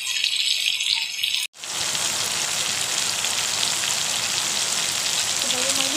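Chicken and soybeans fry in a pan with a steady, dense crackling sizzle that fills the whole stretch, broken once by a brief near-silent gap before resuming just as loud.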